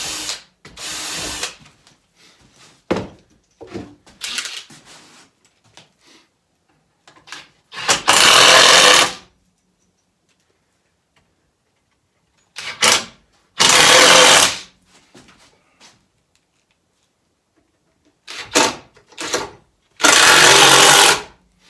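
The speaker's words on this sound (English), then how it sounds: "I can go through, re-drill all the rest of the holes." Power drill re-drilling holes in a planter box made of old fence boards: several short close whirring bursts, some stuttering, then a few longer loud drilling runs separated by silences.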